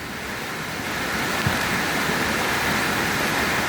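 Powerful muddy floodwater surges in a constant heavy roar that grows slightly louder and stays steady throughout.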